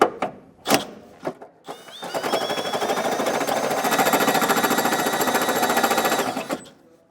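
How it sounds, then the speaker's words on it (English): A step drill bit grinds through sheet metal on a 2023 Ford Edge while a hole is widened for a trailer hitch carriage bolt. A few sharp clicks come first, then a loud, steady, pulsing drill whine runs about four seconds before stopping. "I just got a step bit that I'm gonna use"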